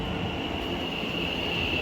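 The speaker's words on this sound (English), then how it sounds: "the next train we're having into platform 4, running about 7 minutes late, is going to be a pair of London North Western Railway Class 730s" London Northwestern Railway Class 730 electric train, a pair of units on the Crewe to Euston run, standing at a busy station platform, giving a steady close rumble with a constant high whine throughout.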